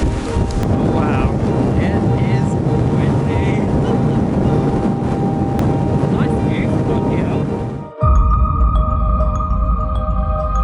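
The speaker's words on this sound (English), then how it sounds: "It is windy." Strong wind at the Giant's Causeway in Ireland buffets the microphone in a constant heavy rumble, then drops off abruptly, leaving a quieter hum with faint tones.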